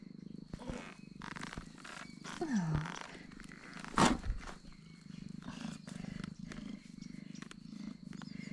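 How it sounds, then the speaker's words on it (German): A small cat purrs softly and continuously close to the microphone on a coastal cliff trail on Madeira, with a brief louder vocal burst midway and faint rustling around it. "Man sieht dich zwar wahrscheinlich nicht mehr, Kätzchen, aber man hört dein Schnurri"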